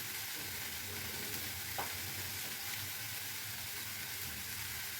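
Cumin seeds fry in hot oil in a home kitchen, a continuous crackling sizzle heard up close, with a brief scrape of stirring partway through.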